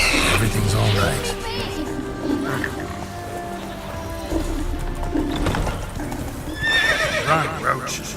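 Geralt's horse Roach in The Witcher 3 gallops with quick, loud hoofbeats and lets out sharp whinnies. A voice talks over the busy game soundscape.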